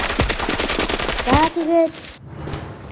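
Rapid bursts of automatic gunfire rattle loudly for about a second and a half, followed by a brief electronic whine and quieter game effects.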